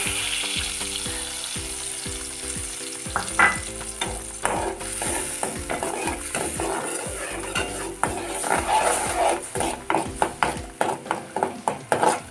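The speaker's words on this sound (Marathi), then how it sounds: "बटर गरम झाल्यानंतर जो मसाला आपण मगाशी काढून घेतला होता मिक्स त्याची पेस्ट बनवून मी त्याच्यामध्ये ओतते" Masala paste for palak paneer frying in hot butter and being stirred, a sizzle under repeated scraping and clinking of a spoon against the pan that grows more rhythmic toward the end, no talking.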